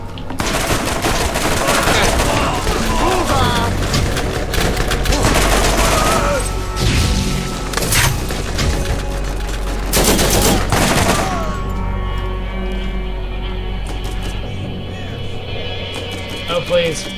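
Gunfire in the Borderlands video game comes in rapid, loud bursts and volleys with booming impacts, while a voice talks over the shooting.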